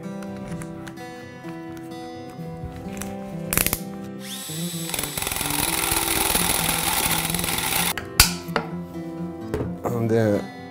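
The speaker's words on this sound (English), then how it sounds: "We use a special drill for that. It has these little round saws almost that you can get off." A drill fitted with a small round hole saw bores holes in bamboo for a floral design, giving short whirring bursts with a longer sustained grinding run in the middle, along with clicks and handling noises, close by.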